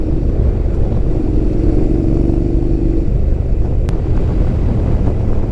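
A Honda X-ADV 750 scooter fitted with an aftermarket exhaust is ridden at steady speed, its continuous engine drone heavily mixed with buffeting wind noise and a brief humming tone partway through.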